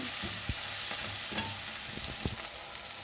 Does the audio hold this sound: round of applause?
no